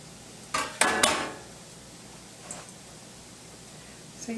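Dry baking-mix dough worked by hand in a bowl, with several sharp knocks and scrapes of spoon against the bowl early on, then quiet rustling and a few faint scuffs.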